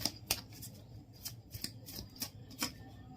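Tarot cards shuffled and laid down in a quiet room, a series of soft, brisk riffling and slapping bursts spaced irregularly over a few seconds, faint and close.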